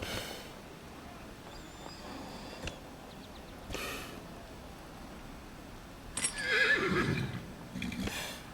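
A horse in the Dragon Age: Inquisition video game gives a loud snorting neigh near the end, preceded by scattered soft clinks and quiet rustling ambience.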